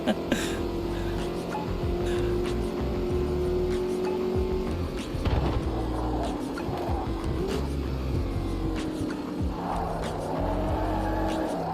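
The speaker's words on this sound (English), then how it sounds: "I'm trying to do no-handed drifting" A car drifts in a racing video game, its engine droning and shifting pitch steadily over a low rumble, with brief tire and throttle surges along the way.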